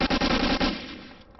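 A rapid burst of loud, sharp gunfire in the Medal of Honor Spearhead video game, several close blasts in quick succession lasting under a second before a short decaying tail.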